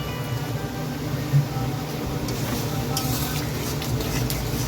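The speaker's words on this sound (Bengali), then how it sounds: "দিয়ে এবার ভালো করে এটাকে নাড়িয়ে নেবো।" Vegetables with soy sauce and vinegar are stirred in a pan, a steady scraping and sizzling with light utensil knocks throughout, close and fairly loud, with no talking.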